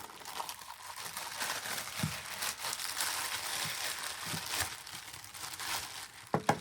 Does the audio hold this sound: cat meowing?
no